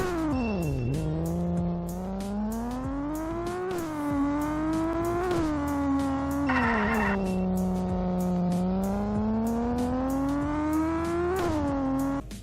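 A Chrysler ME412 engine in the Roblox game Greenville revs loudly and continuously, its pitch sweeping up and down through gear changes, with a brief tire squeal partway through.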